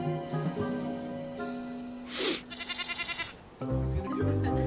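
A goat bleats over a film soundtrack, its cry standing out against background music and other noise in a rural scene.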